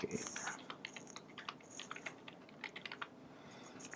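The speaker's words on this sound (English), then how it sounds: "You do that by typing in his or her name." Someone typing a name on a computer keyboard, a quick irregular run of light key clicks, close but quiet, with faint speech in the background.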